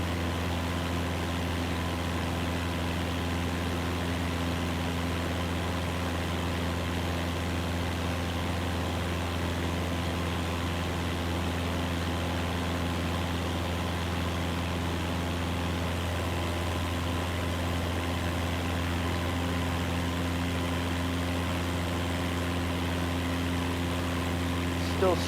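A propeller aircraft engine in Microsoft Flight Simulator 2024 drones at a steady low pitch with a constant hum and no change in level, continuous and fairly loud throughout.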